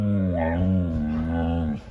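A dog named Cooper whines for dinner in one long, loud, wavering vocalization close by, rising and falling in pitch for about two seconds, with no talking over it.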